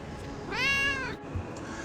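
A single clear cat meow, drawn out and rising slightly, heard alone against a quiet room background.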